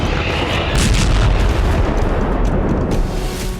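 An M777 ultra-light howitzer in Indian Army service fires with a heavy, loud rumbling blast, a sustained booming roar that spans several seconds with dense low-end energy and slowly fades, no talking over it.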